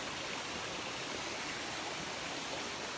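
A river stream flowing beside a hillside, a steady broadband rush of water that holds constant and fairly soft throughout, with no voices.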